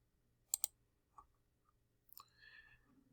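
Two quick, sharp mouse clicks close together in a quiet room, followed by a few fainter clicks and small sounds.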